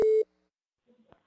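A single short, steady telephone tone about a quarter second long while a call is placed, followed by a brief faint murmur and a small click.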